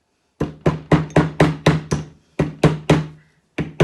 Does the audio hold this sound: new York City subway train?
no